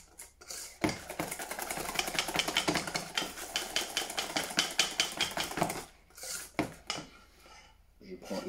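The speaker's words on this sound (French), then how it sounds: "c'est vraiment de bien mélanger pour qu'il n'y ait vraiment pas de grumeaux" Rapid whisking of dry ingredients for pastry cream in a bowl, a fast rhythmic scraping and tapping that runs several seconds, then pauses and resumes briefly.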